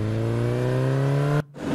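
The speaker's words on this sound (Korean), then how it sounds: "자, 오토바이 타고" A cartoon motorcycle engine revs hard in a steady rising whine during an animated battle, then cuts off abruptly before briefly picking up again.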